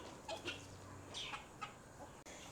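Chickens cluck softly in a farmyard, a few short, faint calls scattered over a quiet background.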